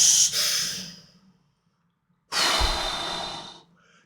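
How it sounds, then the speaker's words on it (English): A breathing technique meant to move chi through the body, with a long, forceful breath that fades out, a pause of silence, then another strong, hissing exhale that trails off, close and loud, with no talk. "That's a breathing technique to move the chi through the body, to keep the energy flowing."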